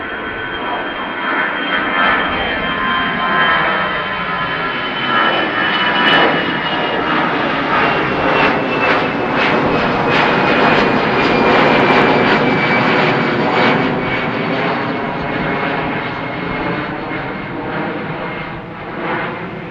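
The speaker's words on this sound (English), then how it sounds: "This is probably the A320 from Lufthansa outbound to Frankfurt." A Lufthansa Airbus A320 jet departing Amsterdam Schiphol, a loud sustained engine roar that swells and slowly fades over about twenty seconds, heard from nearby with no voices.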